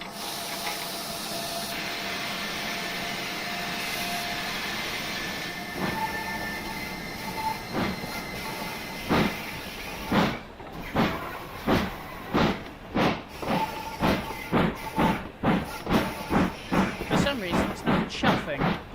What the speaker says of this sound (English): Chuffing out the chimney.